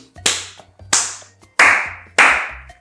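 Four sharp, loud hand claps close by, evenly spaced about two-thirds of a second apart, each a crisp snap with a quick decay into a quiet room.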